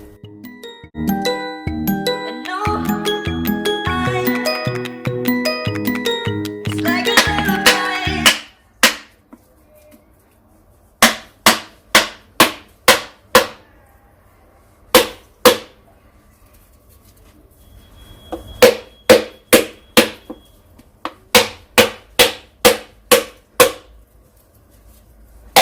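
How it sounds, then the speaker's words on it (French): A hammer cracking open a coconut, struck hard at the ridge intersections: after a busy stretch of clinking kitchen sounds, a long series of sharp, separate knocks lands in quick clusters, loud and close. "pour ouvrir la noix de coco, quand on tape dessus, il faut pas taper n'importe où"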